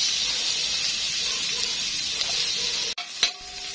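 Ginger and garlic fry in butter with a continuous hissing sizzle. Near the end there is a sharp clunk followed by a knock, likely a utensil against the pan.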